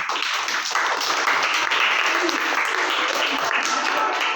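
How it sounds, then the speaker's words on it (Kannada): Sustained applause from a crowd at a community nutrition-week food preparation event, steady and dense clapping for the full few seconds with no voices breaking through. "ನಿಮಗಾಗಿ ನಾವು ಚಪ್ಪಾಳೆ ತರ್ತೀವಿ"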